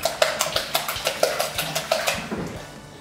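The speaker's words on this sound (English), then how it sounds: "crack eggs into a bowl and whisk them" A whisk beats eggs in a bowl for an egg coating, sharp regular clinks against the bowl repeating about every quarter second and close up, slowing and fading near the end.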